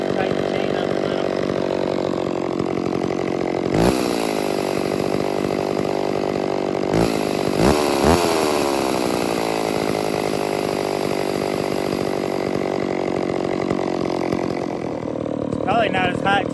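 A chainsaw with a very loose chain runs at a steady, loud, buzzing idle, broken by a few brief revving blips. Voices talk under the engine.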